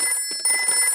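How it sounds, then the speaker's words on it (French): A cartoon emergency telephone rings with a bright, high electronic trill, short and near, in a Peppa Pig episode. "c'est le téléphone pour les cas d'urgence."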